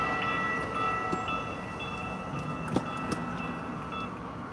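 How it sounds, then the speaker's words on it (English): A train runs alongside a car driving through Phoenix, a steady rail rumble with sustained tonal whine and a couple of sharp metallic clanks, heard from inside the vehicle at moderate distance. "Unless that train made us miss a green light."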